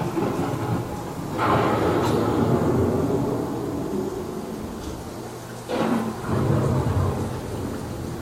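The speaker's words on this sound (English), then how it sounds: "The approaching storm may seem violent and destructive to us, but to nature, it's a new beginning in the cycle of life." Thunder rolls twice over steady heavy rain in a simulated thunderstorm on the Living With the Land boat ride at Epcot, with the long rumbles rising loud over the constant downpour.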